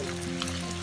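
Chicken pieces fry with ginger garlic paste for a green chicken karahi, a short, steady sizzle with a low cooking hum, close and brief.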